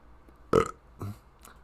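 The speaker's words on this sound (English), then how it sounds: "Why do you burp on the air like that?" One close, loud burp from a man, followed by a shorter, softer second belch in an otherwise quiet room with no speech.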